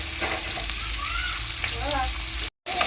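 Small fish and green tomatoes sizzle steadily in a pan as they are stirred for a fish curry, a continuous, close frying hiss with faint scraping and a brief cut near the end.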